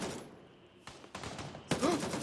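Gunfire in the tactical shooter game Gray Zone: Warfare, heard as a few sharp, fairly muted shots spread across a quiet scene, with a voice speaking briefly near the end.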